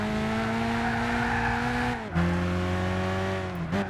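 A Renault Clio in the racing game Gran Turismo 6 drones along with a steady engine tone and a sustained tire squeal, briefly dipping and shifting pitch midway before settling again, with no talking.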